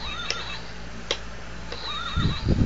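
A horse neighs in short, repeated whinnies over a faint ticking background. The calls are fairly clear and nearby. Low thumping noises come in near the end.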